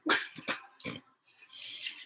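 A dog gives a few short, close barks and huffs in quick succession, followed by softer whining sounds, indoors.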